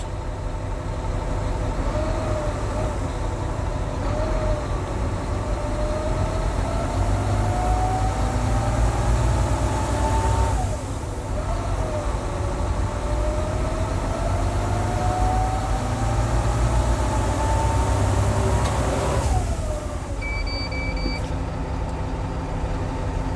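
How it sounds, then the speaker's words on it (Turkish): Volvo A40G articulated dump truck engine revving in drive during a brake test, a loud steady drone with a slowly climbing pitch that drops and climbs again, ending with short electronic beeps near the end. "Frenden ayağımızı çekip gaz pedalına basıyoruz."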